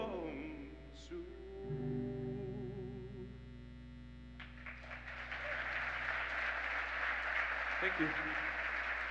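An audience bursts into applause at a city State of the City address right after a sung musical performance ends, the clapping swelling and continuing loud under a brief spoken thanks.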